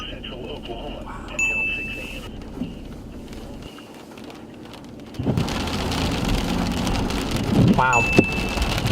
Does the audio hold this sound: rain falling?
yes